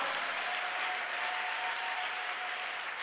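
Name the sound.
congregation applause and acclamations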